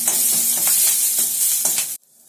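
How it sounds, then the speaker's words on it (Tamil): Crushed garlic cloves sauté with dried red chillies in a pan, filling the moment with a close, loud, continuous sizzle punctuated by light stirring scrapes, then cutting off abruptly into near silence. "பத்து பல்லு பூண்டு தட்டி வச்சுருக்கேன் இல்லையா அதையும் சேர்த்துக்கிறேன்"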